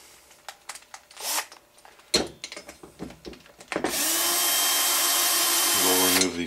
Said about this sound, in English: we're going to go ahead and remove the four screws that are on the inside of the clutch housing